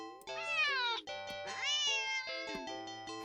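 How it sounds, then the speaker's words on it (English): Cat in the horror game Do Not Take This Cat Home gives several sharp, drawn-out meows back to back, loud and close with no talk over them. "the cat meows sharply at you and dashes off around the corner and into the hallway"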